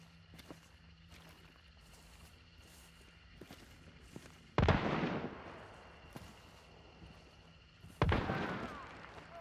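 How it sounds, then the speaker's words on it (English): Two heavy shotgun blasts in Hunt: Showdown boom out at a moderate distance, each trailing a long rolling echo, over quiet ambient crackles and faint footstep-like taps. "Shotgun, that is."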